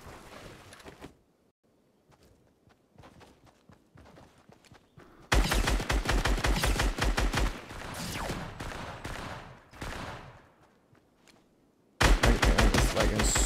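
Fortnite gunfire on the Nintendo Switch: scattered shots at first, then a loud sustained burst of rapid automatic fire, a pause, and another heavy burst at the end, with no talk over it.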